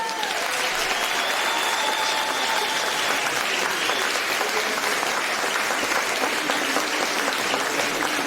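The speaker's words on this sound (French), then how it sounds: "Merci, on peut l'applaudir très fort" An audience at a testimonial gathering gives a long, even round of applause, a thick continuous patter of many hands that stays steady and fairly loud throughout.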